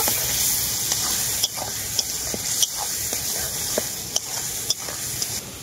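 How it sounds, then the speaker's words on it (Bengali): Soaked spice paste sizzles steadily in a hot pan while being stirred for vegetable khichuri, with repeated spoon scrapes and clicks over a constant frying hiss, close and fairly loud, no voices. "মশলাটাকেও আমি খুব ভালো করে কষিয়ে নেব।"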